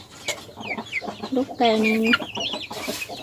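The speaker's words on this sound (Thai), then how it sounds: "ลูกไก่นี่" Chicks and chickens cluck and peep close by, with one longer, drawn-out call standing out among busy scratchy background noise, while someone talks over them.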